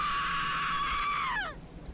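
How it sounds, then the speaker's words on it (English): A long wailing scream echoes out of a cave in a video game, holding a high steady pitch before sliding down and breaking off, loud and reverberant. "A scream bellows out of the caverns of the cave"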